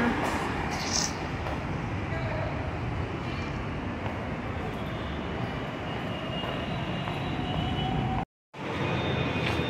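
A metro train at a metro station gives a steady, broad rumble with a faint rising whine, continuous and fairly loud, cutting out briefly near the end before resuming.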